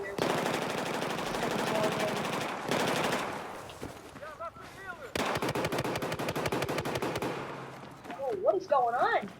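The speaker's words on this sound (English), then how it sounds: "Gunfight central over here." Gunfight in the video game Battlefield 4: rapid automatic fire and sharp shots crackle steadily at moderate volume, with brief pauses between bursts and someone talking over parts of it.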